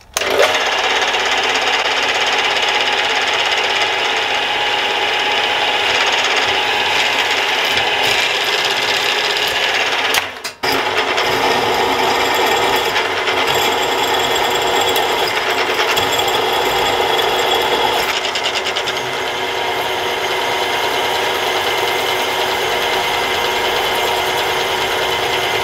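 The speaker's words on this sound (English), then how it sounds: "flip the part over and drill this side out to also take an M8 tap" A loud, continuous whine of a drill on a round column mill cutting holes into a metal part runs throughout, with a brief break midway before the grinding resumes.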